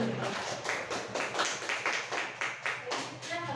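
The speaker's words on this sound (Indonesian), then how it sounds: "Tepuk dulu." A small group in a classroom counseling session clapping together in a brisk, even rhythm, a dozen or so close-set claps, fairly near and moderately loud.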